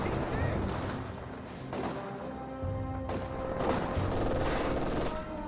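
An MG42 machine gun in a Company of Heroes 2 battle lays down suppressing fire, with steady rattling gunfire at moderate distance blended with other battle noise throughout.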